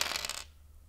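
A single X-Wing Miniatures Game die dropping onto a table, a quick close clatter that lasts under half a second and then falls away to quiet.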